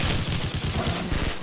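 Dense gunfire erupts in a Call of Duty match, rapid overlapping shots and bursts forming a loud, continuous fusillade close by.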